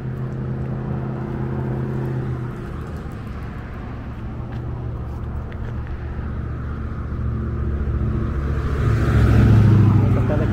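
Cars and other vehicles pass along the periférico ring road in Matamoros, Tamaulipas, at dusk near a lagoon, a steady traffic rumble that swells as a closer vehicle goes by near the end.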